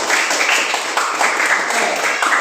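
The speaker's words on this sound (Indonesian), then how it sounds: "mari kita memberikan tepuk tangan untuk kelompok 2" A classroom group applauds for a discussion group, dense steady clapping from several people close by for the whole moment, with no voices over it.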